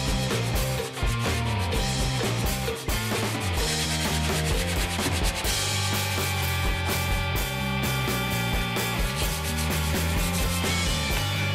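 Steady, continuous rubbing and sanding of a wooden hand plane handle as it is shaped to fit the hand, an even abrasive scraping that runs close and loud without a break.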